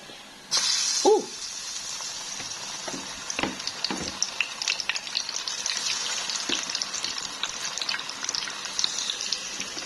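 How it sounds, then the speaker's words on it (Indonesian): Tempeh sizzles in hot oil in a home kitchen, a steady crackling fry after a short louder burst of hissing at the start, with scattered pops and clinks throughout and no talk. "Aku goreng tempe dulu ya."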